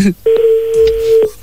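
An unanswered call on a telephone line gives a single loud, steady ringback tone lasting about a second, with a brief voice fragment just before it.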